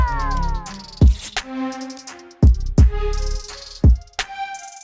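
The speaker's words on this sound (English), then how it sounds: "how to make hi-hats that sound like this" Quick, crisp hi-hat patterns made in BeatMaker 3, some rolling, sit over deep booming kicks and melodic synth notes in a loud, close beat.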